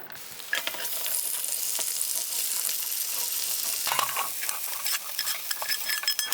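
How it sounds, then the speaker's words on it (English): Venison sizzles and fries steadily in an Instant Pot, a dense continuous crackle with occasional stirring scrapes and clinks, close and moderately loud, no voices. "I still am going to use the Instapot to cook the venison"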